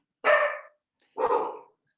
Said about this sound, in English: Dogs are now on this podcast communicating.